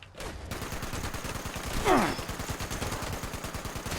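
Gunfire in the video game Fallout 76, a rapid stream of shots rattling steadily with a brief louder burst midway, fairly loud and continuous, no talking.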